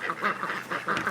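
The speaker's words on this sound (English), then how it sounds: "These are the ducks coming up to visit." Homestead ducks quacking close by in a quick, repeated series of nasal calls, loud and alone with no talk.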